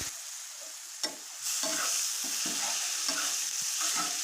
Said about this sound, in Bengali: চাউমিনটা খুব সুন্দরভাবে নাড়াচাড়া করে নিচ্ছি